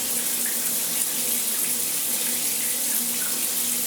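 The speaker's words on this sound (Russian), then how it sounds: "Не массажный, достаточно мягкий поток воды." Soft, steady water stream pouring from the shower head of a Gerhans Jovian K13008 bath mixer, a continuous close hiss running unbroken with no voices.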